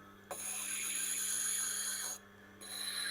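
A knife is drawn across a Tormek silicon carbide wheel, giving a steady close grinding rasp that runs about two seconds, breaks off briefly, then starts again, fairly quiet, with no talking.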